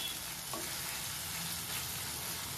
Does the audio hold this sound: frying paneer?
yes